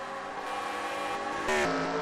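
Race cars in a NASCAR video game roar past in a dense, steady engine drone with layered tones, swelling louder briefly near the end.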